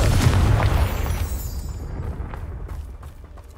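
A Confringo fire spell cast in Hogwarts Legacy bursts with a loud, close boom that rolls off into a fading rumble and crackle over a few seconds.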